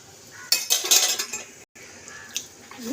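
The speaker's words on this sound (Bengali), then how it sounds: "এই যে অনেকটা জল আছে কড়ার মধ্যে, তো এরকম করে ফেলে দিই।" Water is tipped out of a heated wok, a scraping, clattering pour of metal cookware lasting about a second, close and fairly loud, followed by softer sizzle and rattling.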